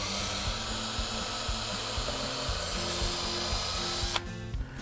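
A power drill drives face screws into the end of a Fibo wall panel, a steady whirring motor with stepped pitch changes running close and continuous, ending in a sharp bump and brief clatter.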